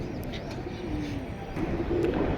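A young Pakistani pigeon coos steadily at close range, soft throaty calls swelling slightly toward the end with no voices present.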